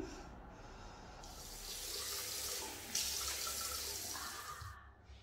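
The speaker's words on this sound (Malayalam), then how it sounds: "ആദ്യം നമുക്ക് ചെറിയ ചൂട് വെള്ളത്തിൽ ഫേസ് ഒന്ന് വാഷ് ചെയ്തിട്ട്" Warm water running from a tap into a sink while a face is washed, a close steady gush with splashing changes as hands move through the stream, stopping near the end.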